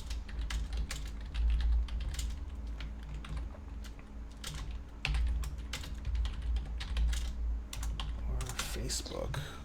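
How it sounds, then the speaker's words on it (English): Fast typing on a computer keyboard, a dense stream of sharp key clicks close to the microphone over a low background hum, with no talking. "That should be typing. It sounds really loud on the earbuds."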